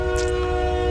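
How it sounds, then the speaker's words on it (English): Train passing nearby, a loud sustained horn tone with rumbling wheels and rail noise running underneath the whole moment. "of course the train would come right in the middle of my recording"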